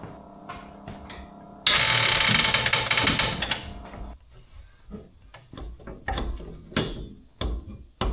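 Ratchet wrench clicking while removing shock absorbers from a Jeep XJ, a loud dense burst of rapid clicks followed by shorter, sparser ratcheting strokes and metallic clinks.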